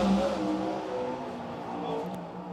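A sprint car laps Silver Dollar Speedway in Northern California, its engine revving and sliding in pitch as it circles, moderately distant and steady with no talk.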